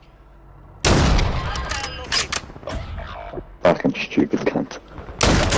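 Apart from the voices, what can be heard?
gunfire in a video game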